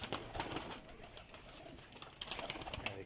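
A high-flying champion parwazi pigeon coos softly in a loft, the low throaty calls repeating amid faint airy background noise.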